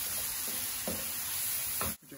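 Seasoned taco meat sizzling in a frying pan on the stove, a steady close hiss with a couple of brief stirring scrapes before it cuts off.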